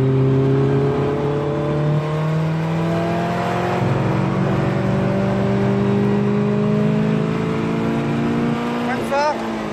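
A Caterham sports car on the Croix-en-Ternois race circuit, its engine note rising steadily under hard acceleration, loud and close throughout, with a brief gear-change dip near the end.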